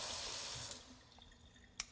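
Water from a black kitchen faucet pours into a deep sink, a strong hissing stream that fades and thins toward drips, ending with a brief sharp clink.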